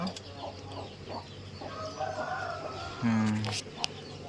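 A domestic country chicken clucks in a village home, giving short bursts and a few longer calls close by, with people talking over much of it.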